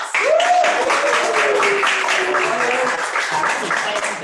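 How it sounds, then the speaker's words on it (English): Steady, loud group applause at a fitness program testimonial showcase, with a voice or tone rising briefly near the start and faint talk mixed under the clapping. "let's give Perry a round of applause."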